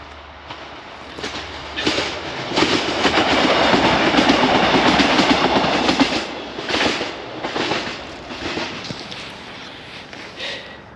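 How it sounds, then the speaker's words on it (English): A train passes near a field's edge, a loud rushing roar building and holding with rhythmic clickety-clack of wheels over rail joints, then receding, close by with no talking. "we've got a train coming past"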